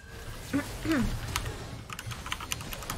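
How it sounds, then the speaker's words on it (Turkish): Quick bursts of computer keyboard typing during a League of Legends gaming session, with key clicks clustering toward the end, under brief voices. "hemen yazıyorum puanı buradan"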